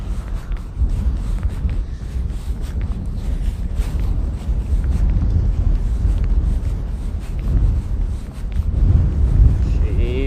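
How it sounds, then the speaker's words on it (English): Strong wind blusters against the microphone outdoors, a heavy low rumble that gusts and surges throughout, with people talking under it. "She's windy"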